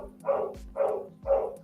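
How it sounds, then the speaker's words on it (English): Three evenly spaced barks from a dog, moderately loud and fairly close, each a short rough burst, over a faint steady hum. "Of course, the dog."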